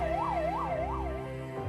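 A wailing ambulance siren rushing through an emergency, its pitch rising and falling in steady cycles over a low rumble of traffic, fairly close and continuous with no talking.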